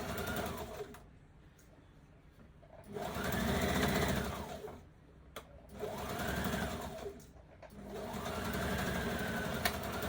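A sewing machine stitches a dart on a skirt in three separate bursts, its motor whirring up to speed and winding down between runs, close by and with no talking.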